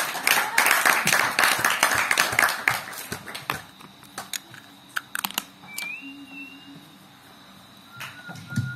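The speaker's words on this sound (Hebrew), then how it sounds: "כפיים לכם" Audience applause at a live music performance, a dense burst of clapping for about three seconds that thins into scattered claps, with faint tones and a short voice afterward.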